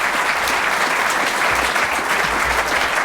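A crowd in West Belfast welcomes guest David McWilliams with loud, steady applause that goes on without pause, many hands clapping close by.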